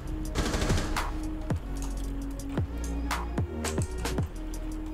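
Hip-fired automatic weapon in Rainbow Six Siege, Legacy mode: several short bursts of close, sharp gunshots separated by brief pauses, with no talking.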